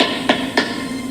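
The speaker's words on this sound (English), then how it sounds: "we tap the block to get everything as square as possible and tight" Two light, dull taps about a quarter second apart, a Bible book block knocked square against a hard surface in a bindery, close by and otherwise quiet.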